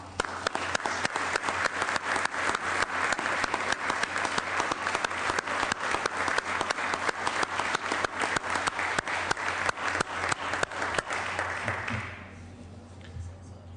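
A loud, sustained round of applause fills a state Senate chamber during a 2009 floor session as a guest is welcomed. The steady, crowded clapping lasts about twelve seconds before quickly dying away into quiet room tone.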